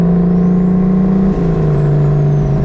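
A turbocharged 600 whp 1.5JZ-swapped Lexus IS300 drones loud and steady from inside the car as the turbo spools, a rising whistle sweeping up over the engine note and then easing back down, with no voices.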